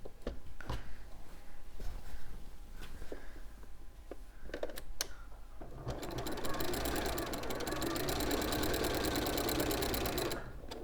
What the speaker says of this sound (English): We're now using the 570A sewing machine, which is a gorgeous machine.